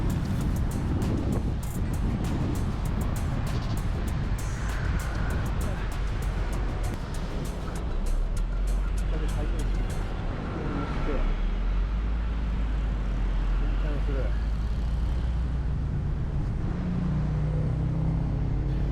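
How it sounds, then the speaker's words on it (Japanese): Open-top tour bus rolling through the streets of Hanoi, with engine rumble, strong wind buffeting the microphone and street noise, while a person talks over it throughout. "ここでバスに乗車をいたします。"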